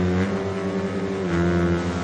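A TM Racing supermoto motorcycle engine revs in the racing video game Ride 4, a steady loud buzzing drone whose pitch dips briefly partway through before holding again.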